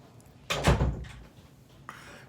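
An indoor door swings shut with one solid thud, followed by a quieter latch-like knock about a second and a half later. The sounds stand alone, with no talking.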